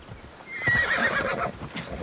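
A horse in the video game Assassin's Creed Odyssey, with a whinny over rhythmic clip-clopping hooves at moderate loudness and no talk.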